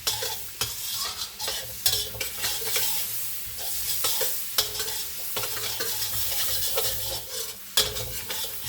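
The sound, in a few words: garlic sautéing in a pan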